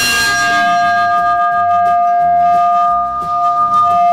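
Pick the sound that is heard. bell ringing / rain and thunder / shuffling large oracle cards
bell ringing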